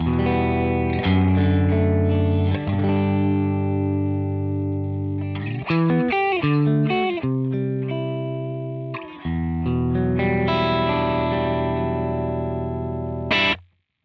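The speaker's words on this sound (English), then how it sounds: "So I've got my guitar plugged into the input of the Boss GX100" Electric guitar played through a Boss GX-100 multi-effects processor: distorted chords and single notes with chorus and echo, ringing for several seconds, ending in an abrupt cutoff.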